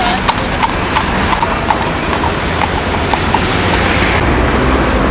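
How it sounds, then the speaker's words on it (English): Steady clip-clop of several horses' hooves on pavement during a parade of horse-drawn carts in Seville, continuous and fairly close, over a busy outdoor street hum. "Parade of horse-drawn carts in Seville."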